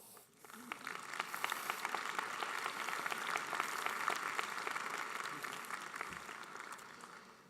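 Graduates at a 2017 university commencement for a school of public health and health professions applaud their families and friends, a broad, sustained round of clapping from a large hall that swells quickly and fades slowly over several seconds.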